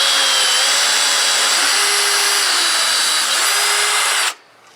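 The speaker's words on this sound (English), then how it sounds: "we're going to drill that one to go into our sideboard" A power drill whines loudly and continuously as it bores into the wood of a raised garden bed, then cuts off abruptly, leaving quiet room tone.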